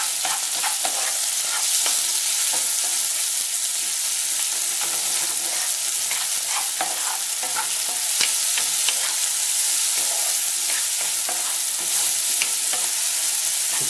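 Onion frying hard in a generous pool of bacon grease over high heat, a dense steady sizzle with crackling pops and occasional scrapes of stirring, close and continuous without any voices.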